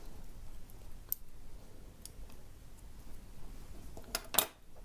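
Sharp scissors give a single quick, faint snip through sewing thread near the end, right after a button is knotted onto a felt purse, with quiet room noise before it.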